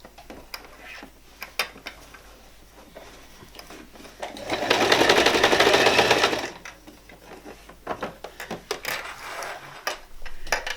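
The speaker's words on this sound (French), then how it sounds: "ensuite, on va venir piquer le côté." A domestic sewing machine runs in one steady burst of about two seconds while stitching the side seam of a spring dress, with quieter handling clicks and fabric rustle before and after.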